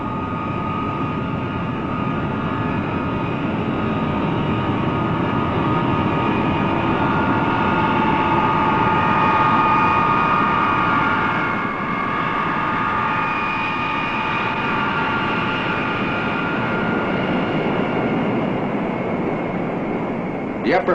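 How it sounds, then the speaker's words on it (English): B-52 bomber taxiing toward the takeoff runway, its jet engines a steady, loud, broad roar with a whining tone that holds evenly throughout. "All pre-flight checks completed, the B-52 pilot taxis to the takeoff runway."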